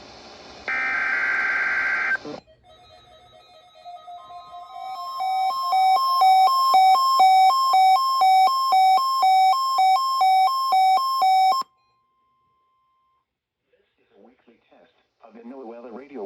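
A NOAA weather radio warning device plays its weekly test alert, opening with a short harsh digital data burst. Bright pulsing electronic tones follow for several seconds, then a pause and a voice begins speaking.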